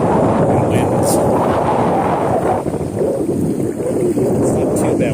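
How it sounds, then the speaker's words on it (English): Strong wind buffets the microphone at a dam during a smallmouth bass fishing trip, a loud continuous roar with gusty swells throughout. "Wind is nice and windy."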